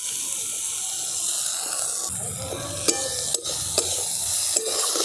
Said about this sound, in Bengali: এবার টমেটো সসটা দিয়েও আমি খুব ভালো করে এগুলোকে মিশিয়ে দেবো।